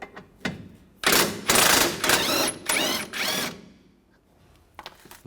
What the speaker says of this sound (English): Now we're going to take this bolt out down here. Use a 14mm socket.